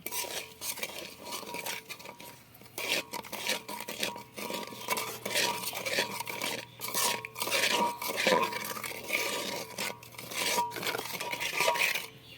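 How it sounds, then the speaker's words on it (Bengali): A spoon stirring ground spices including Kashmiri chili powder for a raw mango pickle, continuous close scraping and clinking against a metal bowl with no talking. "এবার সবগুলো মশলাকে আমি ভালোভাবে মিশিয়ে নেব"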